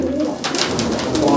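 Low throaty cooing from competition flying pigeons, near and continuous, with a faint voice murmuring in the background.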